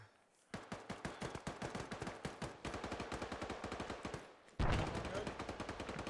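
Ammunition cooking off inside a burning armored vehicle in a video game, rapid loud bursts of cracking pops like machine-gun fire, pausing briefly and then returning even stronger near the end.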